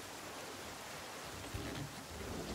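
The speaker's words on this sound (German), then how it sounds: "Oh, es regnet." Steady rain in the video game The Flame in the Flood, a dense, even hiss of falling water throughout with a faint low rumble, no voices over it.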